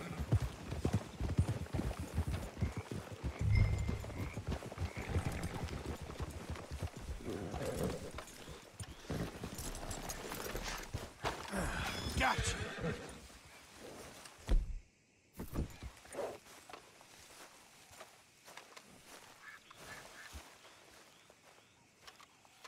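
Horses in Red Dead Redemption II clip-clop steadily on the ground, hooves thudding close for most of the stretch and fading later, with a brief whinny and some talk mixed in.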